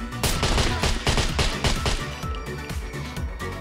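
Rapid gunfire from the survival game SCUM, a dense burst of repeated loud shots crackling back to back for several seconds, with faint voices underneath.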